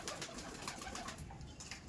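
A pair of Kaldom Andhra pigeons kept at a seller's loft in Sodepur coo faintly and repeatedly at a distance, under a diffuse background hiss.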